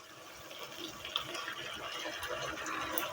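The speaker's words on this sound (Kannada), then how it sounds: "ಇವಾಗ ನಾವು ಇದಕ್ಕೆ ಲೆಮನ್ ಜ್ಯೂಸ್ ಆ್ಯಡ್ ಮಾಡ್ಕೊಳ್ಳೋಣ." Lemon juice is poured into lemon rice seasoning, a soft, faint trickle of liquid running steadily for a few seconds, close by and without speech.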